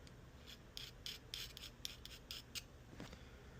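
A file scrapes the point of a fishing hook to sharpen it, making quiet, steady rasping strokes repeated about a dozen times in an even rhythm.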